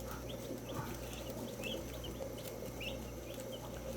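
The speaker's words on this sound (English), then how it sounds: "Look at the chickens." A small backyard flock of chickens gives scattered soft clucks and short calls over a steady outdoor hum, moderately distant and fairly quiet, with no talk.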